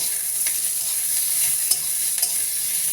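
Onion and tomato fry in a pan, a steady bright sizzle running throughout with a few sharp scrapes and knocks of stirring, close and alone with no talk.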